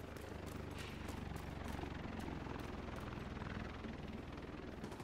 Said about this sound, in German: Da ist schon wieder irgendwo ein Helikopter